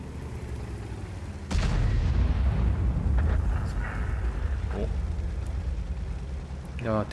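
Self-propelled artillery fire in World of Tanks, a heavy booming impact that hits loudly and rolls on as a long rumbling decay, with someone talking over it.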